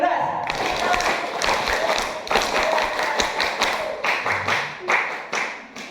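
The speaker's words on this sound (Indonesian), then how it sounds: "Tepuk 13 itu tepuk pramuka ya" At a school staff working meeting, a group claps together in the patterned Scout-style 'tepuk 13', the beats coming in rhythmic clusters with uneven pauses, fairly close and loud.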